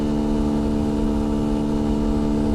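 A Beta 125 RR-S dirt bike engine held at its rev limit while riding, a dense, loud, constant high-pitched drone heard up close without a break.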